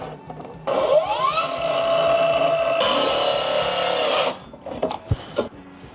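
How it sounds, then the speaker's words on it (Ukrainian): A ProCraft PGS 20 cordless miter saw whines up and makes a 45-degree compound cut through wood for a few seconds, its pitch shifting midway, then spins down, followed by a few knocks and clatters. "а тепер в двох плоскостях під 45 градусів зробимо різ, побачимо, що нам пилка ця вріже"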